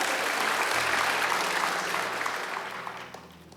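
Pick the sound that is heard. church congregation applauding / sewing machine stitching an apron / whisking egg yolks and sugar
church congregation applauding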